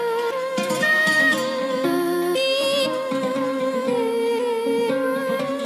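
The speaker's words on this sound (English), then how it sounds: "With the Kashmir sample, it sounds like this." A Kashmir sample from a Sounds of the World pack with an Arabic-flavoured melody, layered and continuous, playing loud and steady throughout.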